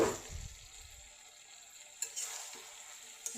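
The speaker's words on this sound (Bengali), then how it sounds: "একটু লেগে দিচ্ছি, না হলে নিচে লেগে যাবে" Cooked, softened bottle gourd being stirred in a pan, a faint sizzle with a few brief scraping strokes of a spoon and light clinks, close and quiet, no talk.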